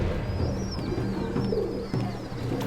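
Pigeons coo in low, repeated throaty murmurs, with a thin chirp drifting above now and then; steady and close, no talking.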